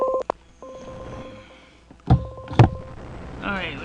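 Telephone dialing tones ring out as a call is placed to TNCC, several steady tone bursts and beeps in sequence with brief gaps, fairly close, with a voice speaking over part of it.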